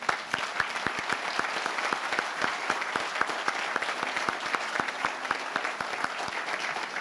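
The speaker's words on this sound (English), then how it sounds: "And if we could pause now and applaud for them, I'd appreciate that." Workers and guests at the Pleasants Power Station in West Virginia give a moderate, continuous round of applause, distinct individual claps carrying a steady rhythm at a fairly low level.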